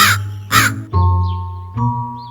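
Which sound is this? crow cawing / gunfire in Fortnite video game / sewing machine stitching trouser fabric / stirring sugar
crow cawing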